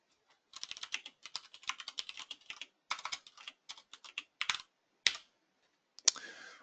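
Typing on a computer keyboard, entering a line of Arduino code: close, crisp clusters of keystrokes in quick bursts with short pauses, ending in a few single firm taps, no talk.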